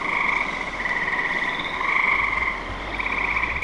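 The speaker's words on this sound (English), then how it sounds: "All I hear is water and frogs." Frogs croak near water on a night in the Manitoba woods at a bear-hunting spot, a loud, dense, trilling chorus that swells and overlaps continuously without any talking.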